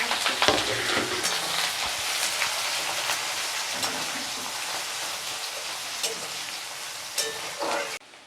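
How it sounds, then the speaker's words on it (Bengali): Onions fry in oil with whole spices for a chicken curry, giving a steady, close, dense sizzle with crackling pops throughout before it cuts off at the end. "পেঁয়াজটা ভাজা হয়ে গেছে"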